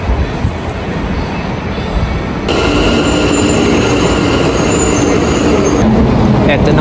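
A high-speed train at a Taipei MRT station rumbles past loudly and close, a dense roar of wheels and motors that swells midway with faint high squeals on top.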